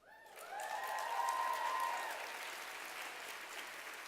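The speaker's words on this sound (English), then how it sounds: "Now, if y'all clap like this" Audience applause at a book-awards banquet swells into a dense, even wash of clapping, moderately distant, with a sustained tone beneath it early on.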